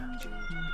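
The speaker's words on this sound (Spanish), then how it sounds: "Está el gato, tío, aullando." A cat howls in a short, drawn-out wail with a wavering pitch, fairly faint against a quiet indoor background and heard alone without talking.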